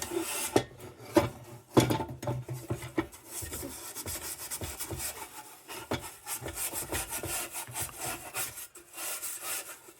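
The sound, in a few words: light rubbing on vintage Dietz lantern part during restoration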